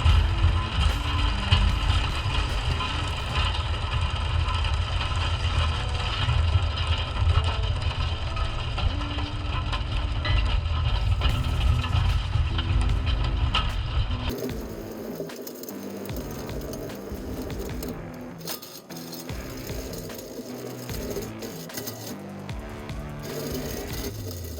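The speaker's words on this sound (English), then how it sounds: "I unboxed a brand new skid steer trencher just for this project" A brand new skid steer trencher idles loudly with a steady low engine rumble, then the sound drops off sharply partway through, leaving quieter irregular mechanical noise.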